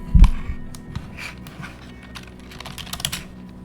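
Fingers typing on a computer keyboard, close and sharp clicking keystrokes in irregular bursts with a heavier thump at the start.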